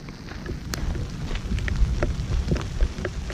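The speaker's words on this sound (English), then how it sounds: "More hail." Hail and rain pelt down in a thunderstorm on a Continental Divide Trail thru-hike near Butte. A dense, steady patter is broken by sharp scattered impacts, loud and close, with no voices.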